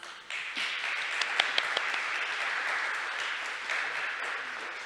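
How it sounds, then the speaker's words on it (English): Audience applause for a panel of experts and chair at a conference session, a steady dense round of clapping from a medium-sized crowd lasting several seconds with a few sharper claps poking out. "Let's give a panel of experts and chair again a big round of applause"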